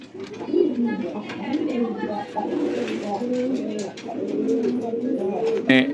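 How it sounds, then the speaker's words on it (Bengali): Domestic pigeons coo close by in a loft, repeated throaty rolling calls overlapping almost continuously, with a louder flutter near the end. "এখানে আমার কিছু বাচ্চা কবুতর আছে"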